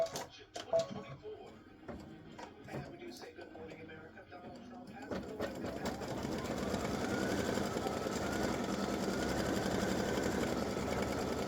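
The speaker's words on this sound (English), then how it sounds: "we're going to start stitching the white part of the stripes" An embroidery machine stitches the white stripes of a patriotic design directly onto a t-shirt. Clicks and handling noises come first, then a steady, rapid mechanical whirring starts and continues unbroken.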